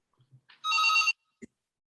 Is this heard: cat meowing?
no